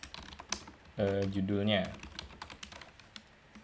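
Computer keyboard typing a title in MS Word, rapid scattered key clicks at a soft level, with a short stretch of a person talking in the middle.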